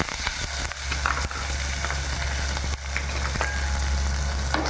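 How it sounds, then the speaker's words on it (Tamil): Onions sizzle in hot oil in a pan with urad dal for rava upma. A steady, close frying hiss runs throughout, with a few soft clicks. "வெங்காயம் நல்லா வதக்கலாம்"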